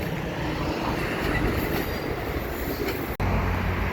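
Freight train A434 rolls toward the Mac Yard on the Dundas Sub at Milepost 75 in London, Ontario, a steady distant rumble of rail cars with faint wheel squeal running continuously.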